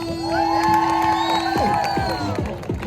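A crowd cheers at a street dance show in Times Square, with whoops, shouts and scattered clapping overlapping loudly and a sustained whistle-like tone riding over the noise.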